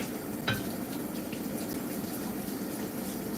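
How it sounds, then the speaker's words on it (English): A tap runs steadily into a sink, a soft continuous rush of water as something is rinsed off, close and moderately quiet with no voices. "Let's rinse this off."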